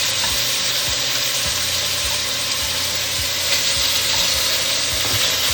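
Meat for plov browning in a pot, a steady dense sizzle and crackle of frying running continuously, close and fairly loud, with faint stirring scrapes underneath.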